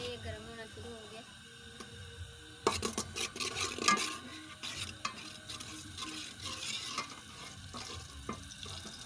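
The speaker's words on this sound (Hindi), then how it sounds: "हमारा जो घी है वो गर्म हो रहा है।" Ghee heats in a pan and begins a soft, steady sizzle, faint at first and then louder crackling with spoon stirring, while a person talks over it.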